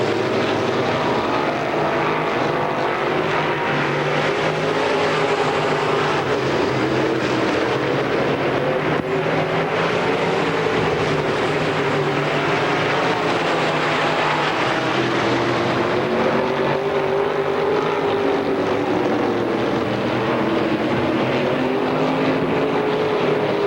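Limited late model race cars in a heat at a speedway, engines droning loudly and continuously with rising and falling pitch as the pack circles the track.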